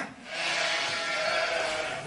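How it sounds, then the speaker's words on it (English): A sheep bleats inside an inn as a sound effect in a comedy sketch, one sustained, close, wavering bleat lasting about two seconds. "why is your inn suddenly full of sheep?"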